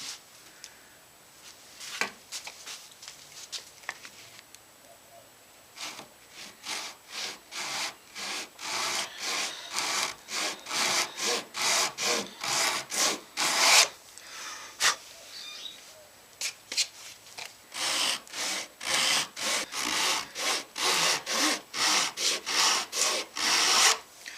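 A hand saw cuts fret slots into a multiscale, multi-laminate wooden guitar fretboard, with steady back-and-forth rasping strokes in quick rhythmic runs broken by short pauses, close and fairly loud throughout.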